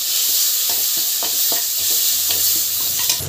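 Salted ingredients sautéing in a pan, with a constant close sizzle broken by repeated scrapes and knocks of a spatula stirring through the food, and no voices.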